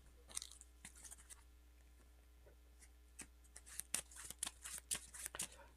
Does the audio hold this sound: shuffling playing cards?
yes